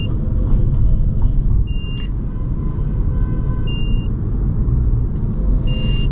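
Steady low road rumble from a Toyota C-HR rolling down a ramp, with a few short electronic beeps from inside the cabin partway through.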